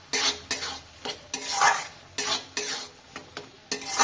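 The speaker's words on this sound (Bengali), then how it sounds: "এবার আমি বাটিতে ঢেলে নিচ্ছি।" Homemade Bengali-style tomato chutney is scraped from a cooking pan into a bowl with a spoon. Close, distinct scraping strokes repeat at an uneven rhythm, with short pauses between them.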